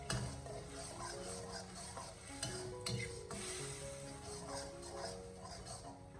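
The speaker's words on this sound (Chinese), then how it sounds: "然后我们再继续的将它翻炒几下" Tomato and egg with tomato ketchup are stir-fried in a hot wok, a steady sizzle with repeated scraping tosses, set against faint tonal background sounds.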